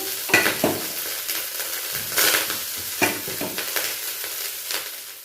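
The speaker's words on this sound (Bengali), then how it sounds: "এবার বিরিয়ানির রাইসটা দিতেছি" Rice for mutton biryani tipped into a wok with hot ghee and cumin, giving a close sizzle with scraping stirs and clinks of a spatula against the pan, in bursts.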